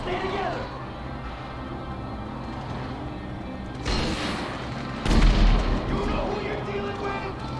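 A heavy gun in GTA 5 story mode booms a couple of times over a low rumbling background, with one strong blast standing out near the end amid ongoing game noise and talk.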